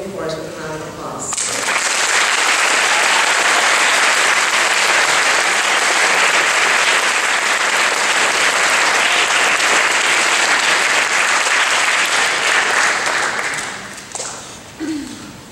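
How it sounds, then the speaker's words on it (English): Sustained audience applause for a high school beginning chorus at a district choral event, loud and steady for about thirteen seconds, with brief speech at the start and the clapping tapering off at the end. "Please welcome the Cypress Bay beginning chorus with a round of applause."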